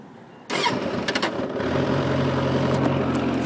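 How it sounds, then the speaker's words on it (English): A 2006 Suzuki Katana 750 carbureted motorcycle cranks briefly on its starter, then catches and settles into a steady, close idle, heard alone. "I'm gonna have to set you down here to start the bike."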